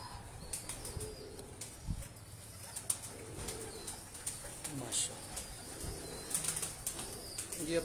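Sialkoti pigeons flap their wings in short bursts of sharp flutters, mixed with low cooing and faint chirps, nearby in a quiet space with occasional handling noises.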